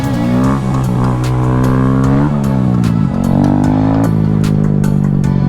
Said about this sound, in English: I love the exhaust sound. You can hear the little baby crackles.